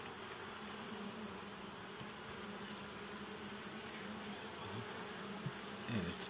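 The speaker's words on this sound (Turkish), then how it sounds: "Çok güzel çalışıyor arılar." Honey bees buzzing steadily around a hive in the morning, a dense continuous drone close by with a few louder passes near the end.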